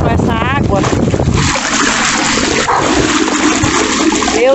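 A dog splashes into the water at an island beach, then churning, rushing water continues loudly; a brief voice sounds at the start.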